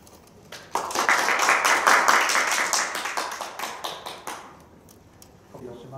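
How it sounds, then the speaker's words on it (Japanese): An audience at a health lecture on stroke breaks into brisk applause that swells quickly, holds for a few seconds, then thins to scattered claps and fades. "皆様拍手でよろしくお願いいたします"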